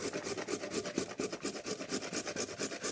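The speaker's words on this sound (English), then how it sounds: "a carrot that we're going to grate on the large holes of a box grater" A peeled carrot scraped over the large holes of a box grater: steady, rhythmic rasping strokes close up, repeating about four times a second, with no talk.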